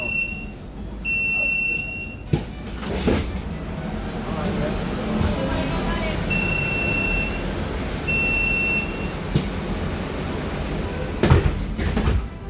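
Electric Transjakarta high-deck city bus doors open and close with a pneumatic hiss and repeated warning beeps, audible alongside a steady interior hum and occasional clunks.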